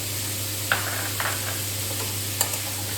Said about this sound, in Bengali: এবার কড়াইশুঁটিগুলো দিয়ে দিলাম।